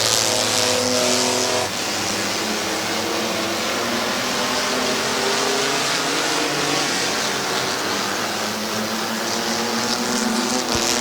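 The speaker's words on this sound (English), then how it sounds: "Time for the mini truck feature with Scott Liddell and Eddie McLean looking for the green flag" Mini trucks race on Midvale Speedway, a dirt oval, with several engines roaring loud and continuous as they pass, pitch rising and falling.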